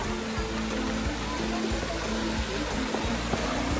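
Water from Ho Pui Reservoir rushes down a stream below a bridge toward a waterfall, giving a steady, fairly loud broadband roar that holds without pause throughout.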